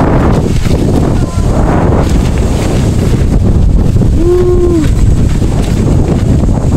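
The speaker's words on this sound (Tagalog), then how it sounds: "Lakas ng hangin." Strong wind at a mountain campsite with a dome tent, roaring and buffeting loudly and continuously close to the microphone.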